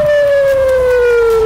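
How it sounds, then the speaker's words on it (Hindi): A loud, steady air raid siren wails continuously in northern Israel during rocket attacks, its single tone slowly sliding downward in pitch, with no voices present. "हमलों से उत्तरी इजराइल के शहरों में सायरन बज उठे"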